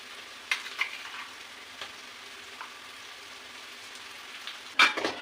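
Sliced onions sauté quietly in a pan for a chicken curry, a faint low crackle with scattered small pops and a brief louder burst of spitting near the end.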